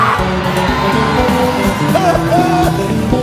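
A worship congregation at a praise and adoration service shouting cries of victory, a loud, dense crowd of overlapping yells and whoops, sustained and close, with a few rising voices standing out above the roar.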